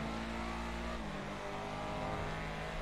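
Audi RS5 engine in GTA 5 Online revving hard as the car accelerates through an overtake on Mount Chiliad, a steady mid-pitched engine drone with rising tone, fairly quiet and continuous with no talk.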